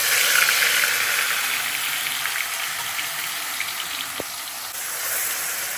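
Onion, green chilli, ginger and garlic sauté in a hot pan with a steady, loud, broad sizzle that stays constant throughout, with no voices.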